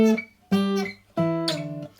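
An electric or acoustic guitar plays a short phrase from a song as three sustained, sliding notes, close and clear with no talking.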